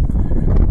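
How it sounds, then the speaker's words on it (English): Wind blows across the top of Independence Rock in Wyoming as a brief, close, rumbling gust that buffets the microphone. "it's quite windy up here, which is not unusual for this part of Wyoming"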